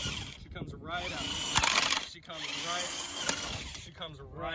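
A power drill bores out a stuck bolt during a camshaft job, whirring in short bursts with a harsh grinding burst in the middle, while someone talks between the runs.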